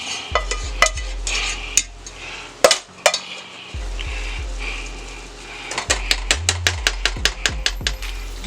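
Utensils clack and scrape against a pan as pasta is stirred into a creamy Cajun shrimp alfredo sauce with mushrooms, sharp taps and clinks in irregular bursts, then a quick rhythmic run of knocks, over a faint low simmer.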